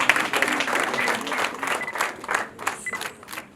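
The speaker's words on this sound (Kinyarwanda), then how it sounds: "Amashyi menshi cyane nanone." Wedding guests applaud in scattered, uneven bursts, the clapping swelling and fading a few times at moderate loudness, with faint chatter underneath.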